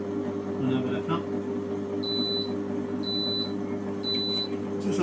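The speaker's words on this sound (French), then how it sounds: "C'est sympa le petit bip pour signaler que c'est fini." A NOZ food processor gives three short, evenly spaced electronic beeps at the end of its run, clear over a low steady hum.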